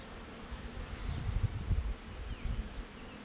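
Honeybees buzz steadily around an open beehive during an inspection, a close, continuous low hum that swells and wavers without pause.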